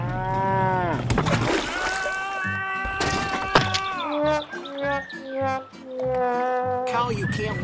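Cartoonish cows moo repeatedly in a video game boat race among farm animals, loud drawn-out calls overlapping each other with brief bird-like chirps mixed in.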